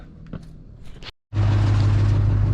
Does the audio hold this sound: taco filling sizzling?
no